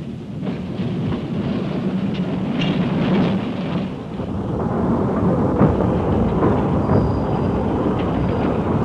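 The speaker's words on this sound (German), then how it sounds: "Mit jedem Meter, den der kleine Zug zurücklegt, steigen die Temperaturen." A small health-spa train from 1958 travels into the steaming Gastein healing tunnel, making a steady, loud, low rumble and rattle that runs without a break and has no voices over it.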